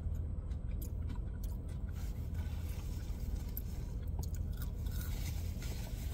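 Close crunching and chewing of Arby's fried mac and cheese bites, a continuous, faint, gritty munching with small crackly bursts, over a steady low background hum.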